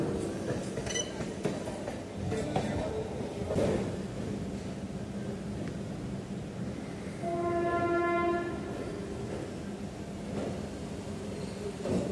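A local train on the Sealdah–Naihati line, halted at a signal, rumbles quietly while a single sustained horn blast sounds midway, with faint clinks around it.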